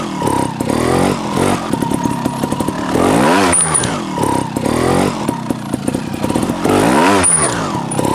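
A TRRS One RR trial motorcycle revs hard in repeated loud bursts. Its engine snarls up and drops back between throttle blips, close to the microphone with no talk.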